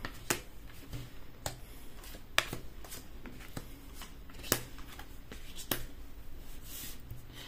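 Tarot cards laid out one by one for a reading, soft papery slaps and flicks spaced irregularly over a quiet room background, close and gentle with no speech.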